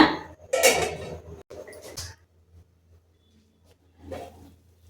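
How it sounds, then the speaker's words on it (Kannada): A metal lid clatters onto a cooking pot of mushroom methi pulao, making a few close, sharp clanks and scrapes, then a brief clink later on against near silence. "ಮುಚ್ಚಳ ಮುಚ್ಚಿ ಸ್ಟವ್ ಸಣ್ಣ ಮಾಡ್ಕೋಬೇಕು"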